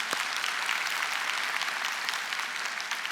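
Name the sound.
church congregation applause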